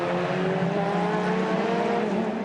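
GT race cars, including a Ginetta passing a damaged Porsche, roar loudly and steadily by at the Clipsal 500 in Australia, a sustained high-pitched drone with no talking.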